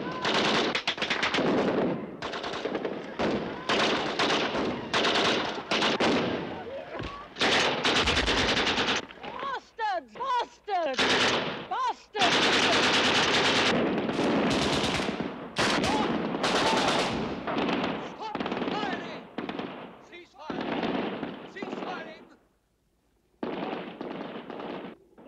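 Sustained machine-gun fire rattles through a bloody film finale, dense bursts of rapid shots broken by brief gaps, with shouted voices heard between volleys.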